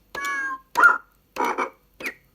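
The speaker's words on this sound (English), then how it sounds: "if you press the button once, you get animal sounds" Four short electronic frog-like animal-sound bursts from a 37-key keyboard's sound-effect button, buzzy and croaking, played in an uneven rhythm with brief silences between them.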